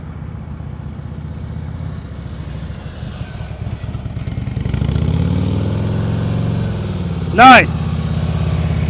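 Motorcycle engine idling low and steady during slow-speed riding practice in a dealership lot, rumbling continuously with a slight rise midway, under a brief spoken comment and a short sharp squeak near the end.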